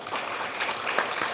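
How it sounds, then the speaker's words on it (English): An audience at a university service awards ceremony on the St. Croix campus claps hands together: continuous dense applause of many people, moderately loud and steady throughout, without talk over it. "clap your hands."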